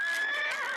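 A cartoon horse lets out a single short, high whinny, loud and close, with nothing else around it.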